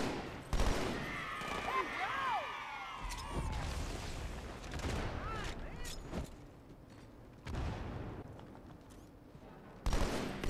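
Battle rifle fire in Halo 2 cracks out in short bursts between metallic clanks and thuds during a firefight, with some whistling tones early on.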